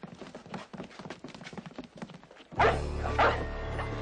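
In a frontier Western drama scene, a dog barks twice loudly and close, right after a run of rhythmic horse hoof clip-clops.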